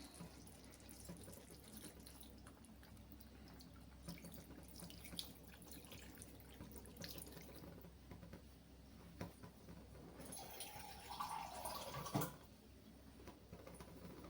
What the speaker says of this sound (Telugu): ఇప్పుడు నేను దీంట్లోకి వాటర్ వేసేస్తున్నాను.